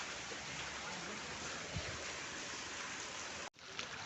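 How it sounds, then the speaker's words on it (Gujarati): Steady, dense hiss of rain pouring down, continuous and fairly loud, with a brief cut near the end. "તો ફાઇનલી આપણો વરસાદ મસ્ત મજાનો ચાલુ થઈ ગયો ને ભાઈ"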